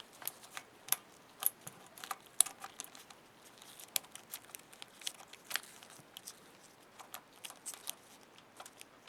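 Magnet lifting loose small metal bearings from a phoropter arm, a scattered series of faint sharp metallic clicks and light clinks at irregular intervals, close and quiet with no talk.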